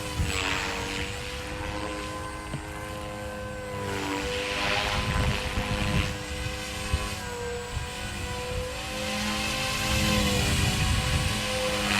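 A Walkera V500D01 flybarless 3D RC helicopter flies steadily nearby, its rotor and motor giving a continuous whining hum with tonal harmonics that swell and fade slightly as it moves, with no talking.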